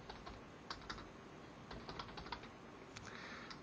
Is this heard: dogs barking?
no